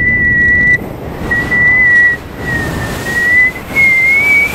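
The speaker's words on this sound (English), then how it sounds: "I'm just gonna whistle and hope that it turns on." A person whistles a thin, steady high tone in several sustained phrases with short breaks, close and loud over a rushing wind-like background.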